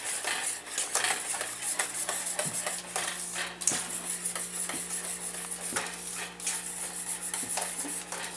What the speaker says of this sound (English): stir that all in there, get it well combined